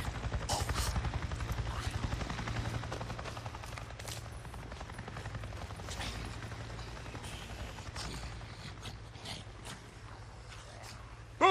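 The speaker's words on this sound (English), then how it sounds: "A Nero chopper! It just buzzed right over me." A helicopter in the video game Days Gone passes overhead, its rapid rotor chop pulsing steadily and gradually fading over several seconds, with scattered clicks and rustles around it.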